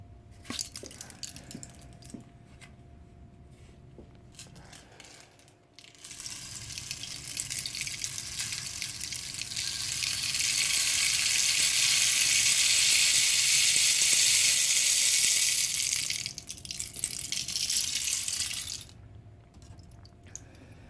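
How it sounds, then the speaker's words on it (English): Rain stick tipped over, its grains pouring down in a soft, continuous hiss that swells to a bright, steady rush in the middle before tapering off, heard alone up close. "rain sticks."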